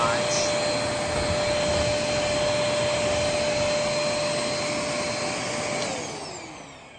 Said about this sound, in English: like most vacuums, they don't really struggle to do bare floor all that much